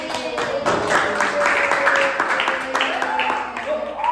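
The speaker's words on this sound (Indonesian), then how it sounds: "Tepuk tangan dulu buat kelasnya." A school class claps together after student presentations in an Islamic religious education lesson, a light, uneven patter of hands with voices chattering over it in the room.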